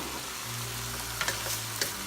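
Mixed stir-fry vegetables sizzle in a pan with oyster sauce, a steady frying hiss broken by a few short scraping stirs near the end, close by and without voices.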